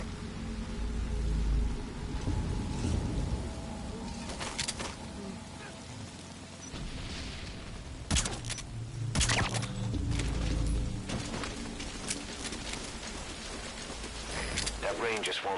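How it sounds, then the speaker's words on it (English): Steady rain in Metal Gear Solid V: Ground Zeroes, a constant hiss with low rumbling and occasional louder bursts, with voices talking over it. "That rain just won't let up"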